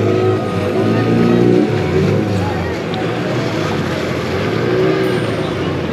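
Boat engine drones steadily during a short ferry crossing of the Gomti river at Dwarka, with water noise underneath and people talking over it throughout.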